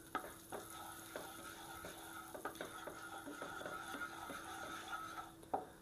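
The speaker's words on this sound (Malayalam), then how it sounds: "നമുക്കൊന്ന് വഴറ്റിയെടുക്കാം." Squid masala is sautéed in oil with chili powder, turmeric and curry leaves. A faint sizzle runs under the scrape and tap of a spoon stirring in the pan, and no one speaks.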